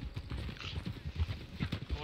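Horse hooves clip-clop in Red Dead Redemption 2, an uneven run of soft low thuds under a player's talk, with a faint background hum throughout.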